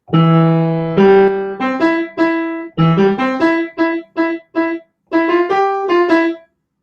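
A solo piano plays a bright, cheerful holiday song melody in short phrases with brief pauses, clear and close.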